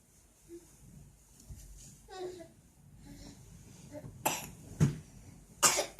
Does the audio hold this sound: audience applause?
no